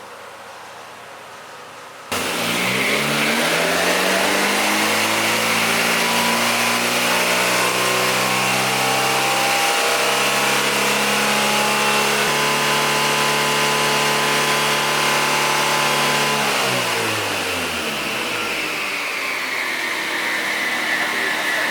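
A car engine revs hard on a dyno, starting from a quiet idle and climbing into a loud, sustained high-rpm roar, then easing back down before rising again near the end; nobody speaks.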